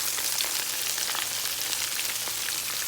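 Pieces of catfish fry in hot oil, giving a close, steady, crackling sizzle that holds even throughout, with no speech.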